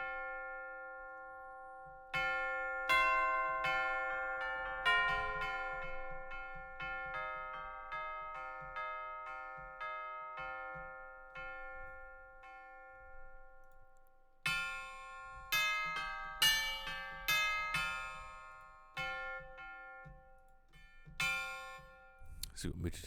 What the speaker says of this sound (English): Here are the Tubular Bells